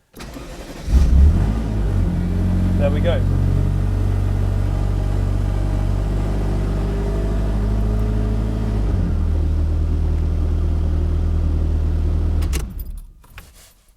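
A Ferrari F40 engine cranks, catches and settles into a loud, steady, rumbling idle close by, then cuts off; a voice speaks briefly as it fires.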